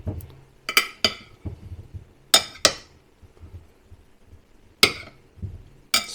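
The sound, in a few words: stirring tinned potatoes with garlic butter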